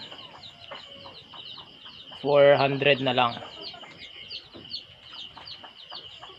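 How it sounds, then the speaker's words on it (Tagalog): Male chickens kept for sale cluck and give one loud, drawn-out rooster crow in the middle, close by, while someone talks throughout. "papakita natin mamaya yung mga lalaki nating manok"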